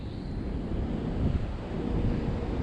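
Pacific Ocean surf pounds the North Jetty at Ilwaco, Washington amid big seas, a dense, continuous low roar of crashing waves mixed with buffeting wind, steady and loud with no voices.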